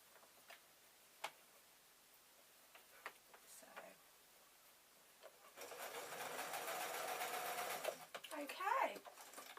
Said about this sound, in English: literally just sewing along.